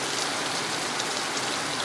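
Heavy, steady rain pours down in a village during a birthday gathering, a dense, loud, unbroken hiss with no pauses.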